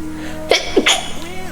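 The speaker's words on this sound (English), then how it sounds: "Sorry, I have to sneeze." A single sharp sneeze with a quick double burst, close and fairly loud, in a quiet room with faint background hum and a brief soft sound after it.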